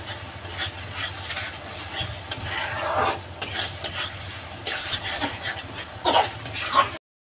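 Fried potatoes being stirred into a mustard-paste masala in a pan, with steady scraping and stirring strokes over a continuous close sizzle, the loudness rising and falling with each pass of the spoon.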